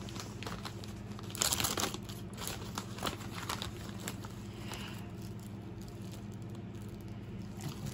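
Cutting open a plastic wax melt package, with faint crinkling and snipping rustles at close range, one louder burst of crumpling near the start and soft handling noises after it over a low steady hum.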